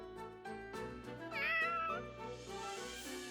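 A cat meows in Fire Emblem Warriors: Three Hopes, a drawn-out rising and falling call set over a steady music bed, fairly clear and prominent.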